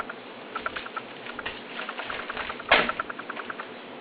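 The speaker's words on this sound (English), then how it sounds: "I'll sort the beans" Dry red kidney beans sorted by hand give light, irregular ticks and patter as they are pushed and dropped, with one louder rattle partway through and no speech.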